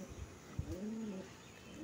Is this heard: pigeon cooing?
yes